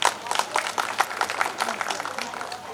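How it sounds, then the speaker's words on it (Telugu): Scattered, uneven clapping from a small gathering at a school event honoring Parishuddha Rao, with talking mixed in. "మనందరం ఒకసారి మన పరిశుద్ధరావుకి క్లాప్స్ కొడదాం"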